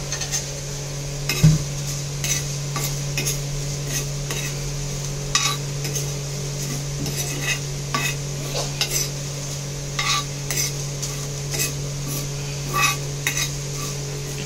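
Whole cumin seeds dry roasting in a pan, with a faint steady sizzle under repeated scraping and clinking of a utensil against the metal, spaced irregularly throughout.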